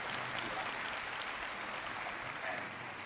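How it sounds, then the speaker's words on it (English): Audience applause fills the hall at an Apple WWDC keynote, a steady, dense clapping from a large crowd that holds evenly for about three seconds with no break. "You can clap, it's good."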